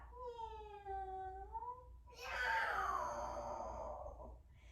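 A person imitates a cat, first a drawn-out meow-like wail, then a harsher hissing yowl, close up and alone.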